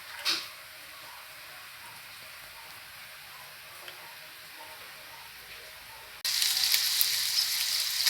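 Pork kare-kare sizzles steadily in a pan as it is stirred, a soft frying hiss that swells abruptly louder and brighter for the final couple of seconds.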